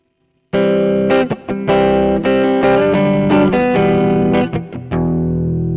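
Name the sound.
distortion effect on music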